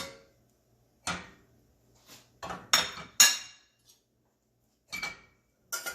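Dry masala being stirred into a little oil in a pan: distinct metallic scrapes and clinks of a spoon against the pan arrive in irregular bursts, separated by short silences, close and clear.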